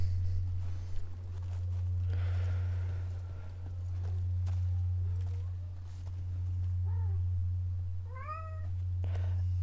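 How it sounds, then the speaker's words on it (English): A cat meows a few times in Dragon Age: The Veilguard, short rising mews growing clearer toward the end, over a steady low droning hum and soft footstep-like taps. "And I can hear the cat"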